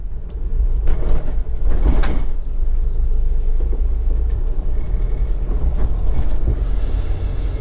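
A roller door rolls open with a sustained low rumbling rattle, steady and fairly loud throughout, with a few louder clanks near the start.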